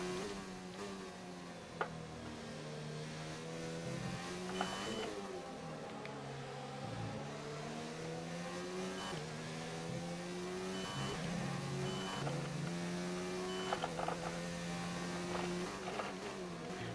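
Formula 1 car engines in the F1 2019 video game at the Chinese Grand Prix, a continuous high-revving whine rising and falling with gear changes as the car chases back markers, heard alone.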